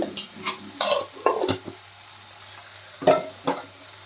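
Cluster bean curry with tomato, turmeric and salt is stirred in a frying pan: soft scraping strokes come in short irregular bursts over a low sizzle, close by, with quiet gaps between them and no talking.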